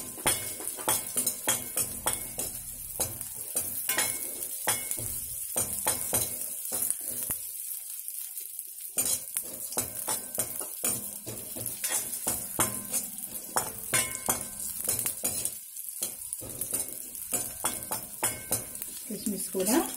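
Raisins fry in a pan after cashews for sweet chakkara pongali, a continuous sizzle with busy spoon stirring and metal clinks against the pan, close and loud, with a brief quiet gap midway.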